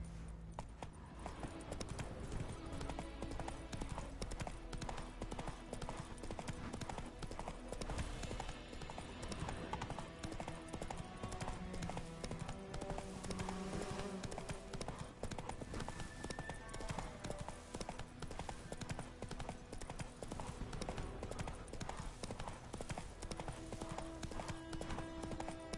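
Horse hooves clip-clop steadily for the full stretch in The Witcher 3, a continuous riding rhythm beneath dense game music and ambience, with no talk.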